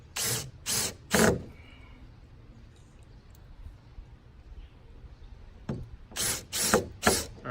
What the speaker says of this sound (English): Fasten the hinge at the 4 pre-marked spots using number 7 inch and a half self-tapping screws.